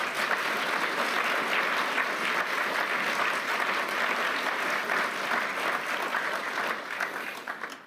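A large audience at the World Economic Forum in Davos gives warm sustained applause welcoming the President of Ukraine, a dense, even wash of clapping that fades slightly at the end.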